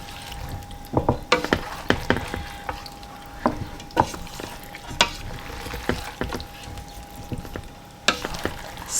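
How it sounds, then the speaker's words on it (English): Chunks of broccoli and cauliflower are folded through a thick cheese sauce, giving soft wet squelches and scraping stirs in an irregular rhythm, close and fairly quiet, over a steady background hum. "you're just going to give it a mix, but just sort of fold it"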